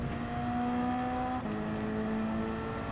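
Race car lapping Brands Hatch in Gran Turismo 7, a steady high engine drone at full throttle with a brief pitch dip as the gear changes, close and continuous with no talk.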